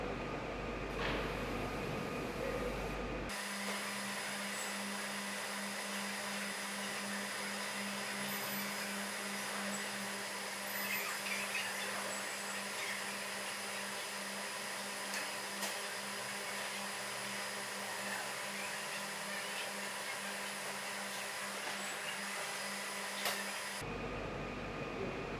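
A Fravol F-600 edge banding machine runs after start-up with a steady, continuous mechanical hum and whir at moderate level, unbroken for the whole stretch apart from a brief change in tone at the start and end.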